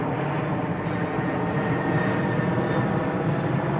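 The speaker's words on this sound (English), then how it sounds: "So definitely not your standard airplane. This is a warplane or army plane." A military warplane passes overhead above downtown San Diego, a loud, steady broadband engine roar that holds at close range for the whole stretch with no break.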